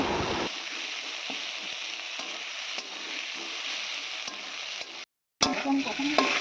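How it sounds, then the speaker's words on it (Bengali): Jackfruit frying in a pan with onion, tomato, ginger and garlic for a Bengali village curry, giving a continuous sizzling hiss with occasional stirring clicks, a brief dropout near the end, then louder scraping. "আর এটাকে খুব ভালোভাবে ভেজে নিচ্ছি।"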